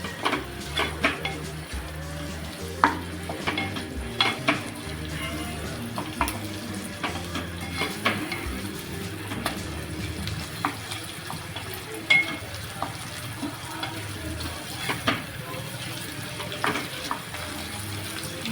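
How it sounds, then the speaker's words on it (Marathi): Tomato is being sautéed with fried onions in a pan, giving a steady low sizzle with frequent scraping and stirring clicks of a utensil, and background kitchen noise throughout. "आता आपण याच्यामध्ये टाकणार आहोत एक टॉमॅटो हा सुद्धा आपल्याला एकदम सॉफ्ट होईपर्यंत परतून घ्यायचा आहे"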